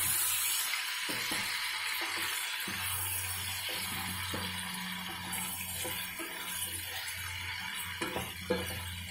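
Prawns sizzle in a hot pan for a Telugu jaggery prawn curry, a steady close frying hiss with occasional stirring clinks and scrapes, no voices.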